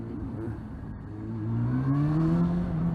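A Honda CB400 motorcycle engine revs up with a rising mechanical tone that climbs steadily and grows louder over a few seconds, heard close and alone.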